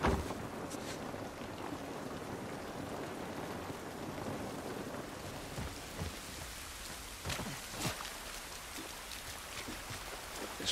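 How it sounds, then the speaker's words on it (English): Rain in The Last of Us Part II, a dense steady hiss of drops falling on surfaces outdoors, with a few sharper nearby splats and low rumbles under it, no voices. "This rain ain't gonna do us any good."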